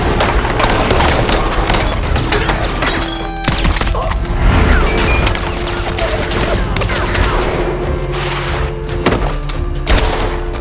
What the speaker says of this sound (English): A gun battle ensued.